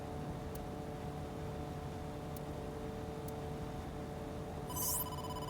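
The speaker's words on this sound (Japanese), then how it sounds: "電話だ。" A telephone rings in the video game AI: The Somnium Files - nirvanA Initiative, with a few brief tones spread out over a low steady hum and a brighter ringing burst near the end.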